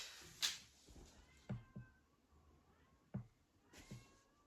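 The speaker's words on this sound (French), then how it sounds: "maintenant, c'est le chat qui miaule" A cat meows a few times indoors, short faint calls spaced apart in a quiet room, with light knocks and handling sounds between them.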